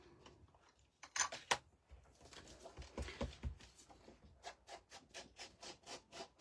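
Ink is rubbed onto paper edges with close, dry scuffing strokes, a few sharp scrapes at first, then a regular series of quick, quiet rubbing passes.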